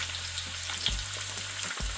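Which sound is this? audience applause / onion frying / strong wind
onion frying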